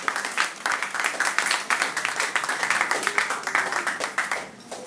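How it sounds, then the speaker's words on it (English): A church congregation claps together in a sustained, dense burst of applause during a worship service, steady and fairly loud throughout. "A clap offering, a clap offering."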